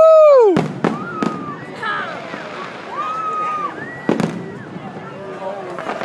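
Fourth of July fireworks bursting outdoors: several loud, sharp booms with crackling and whistling shells between them, heard fairly close, with people's voices and cheers in the background.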